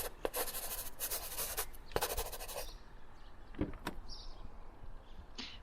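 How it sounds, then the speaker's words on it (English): A pen scratches across paper while a signature is written, a radio-drama sound effect: a series of close, dry scratching strokes with brief pauses between them, heard alone. "So, just sign right here."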